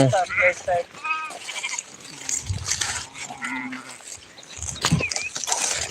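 Sheep bleat repeatedly in wavering calls, some close and loud, mixed with other animal noises and people talking in the background.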